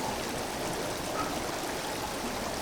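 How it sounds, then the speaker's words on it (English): Water floods in during a hurricane, a steady rushing, gushing wash that stays loud and even the whole time, with no voices over it. "It's water coming in."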